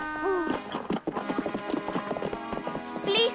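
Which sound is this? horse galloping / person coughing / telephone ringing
horse galloping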